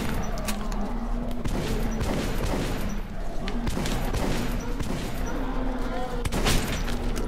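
Gunfire in Metro 2033 rings out in rapid bursts and repeated sharp shots across the whole stretch, loud and close, with a steady low hum beneath and a voice speaking over parts of it.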